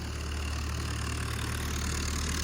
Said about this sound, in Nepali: अहिले एकछिन है ट्र्याक्टर आइरहेको छ ट्र्याक्टर